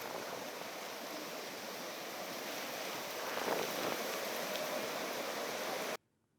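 Heavy monsoon rain pours down in Palghar as a dense, even hiss that swells slightly midway, steady and close with no voices, before cutting off abruptly at the end.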